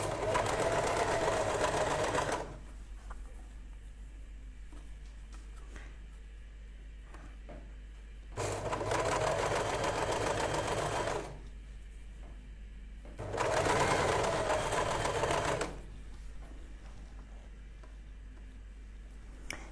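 A sewing machine stitches a staple-fabric dress, running in loud steady bursts of about two to three seconds separated by quieter pauses, with no talking.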